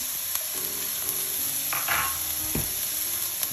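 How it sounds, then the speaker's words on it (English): Diced onions and red, yellow and orange peppers sizzle in a frying pan while a utensil stirs them, with a steady close hiss and a few scraping clicks. "Give it a quick stir here. I'm gonna add my peppers, the red ones,"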